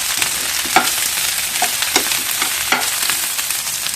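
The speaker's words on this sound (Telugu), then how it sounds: "ఇలా చక్కటి కలర్ వచ్చే వరకు వేపుకోండి ఈ బెండకాయ ముక్కలన్నీ కూడా యాడ్ చేసుకోండి" Chopped okra pieces fry in a hot pan with a steady close sizzle, broken by a few sharp stirring clicks and scrapes.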